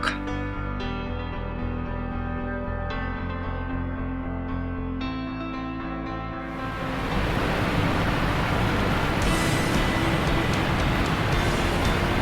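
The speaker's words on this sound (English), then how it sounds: "this is a Jogni waterfall in Manali" Steady music gives way to a loud, continuous rush of falling water from Jogini Falls in Manali, in the Himalayas, roaring on without pause.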